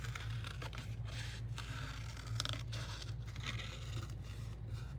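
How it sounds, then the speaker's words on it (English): Scissors snip through paper to cut out a small flower for a scrap journal, giving quick crisp cuts and rustling papery scrapes, close and fairly quiet, with no talking. "So I'm going to cut that one out really quick."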